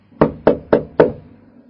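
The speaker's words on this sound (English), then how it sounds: "so I knocked again." Four firm, evenly spaced raps on a bedroom door, close and clear, each with a short wooden ring, no one speaking.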